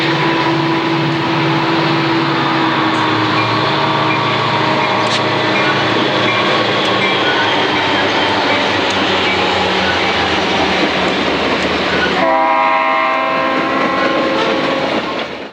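Conrail westbound freight train TV5 roars past the Effingham station on a snowy January day, loud and close, with steady rumbling and clattering wheels throughout. A strong horn-like tonal blare runs over it before the sound changes near the end.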